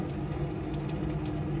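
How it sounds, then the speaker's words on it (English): Cold water runs steadily from a tap in a Sunliving Lido S42SL caravan, a continuous close splashing hiss with a faint pump hum beneath. "So if we pour the water through like that, good pressure on the cold side"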